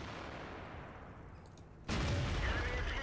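A tank gun fires in World of Tanks: a low continuous rumble of battle, then a sudden loud, booming shot that leaves a heavy sustained roar, with no talk.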